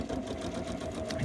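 A sewing machine stitches a cloth face mask, running as a steady continuous mechanical whir close by for the whole moment, with no pauses and no talking over it.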